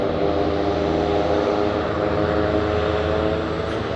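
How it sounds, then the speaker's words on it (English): A Boeing 747 taking off on runway 25 left at Anchorage airport: a loud, steady, deep engine roar with a broad rumbling drone, unbroken throughout. "747 is going to be taking off on runway 25 left. This is the one making all the sound."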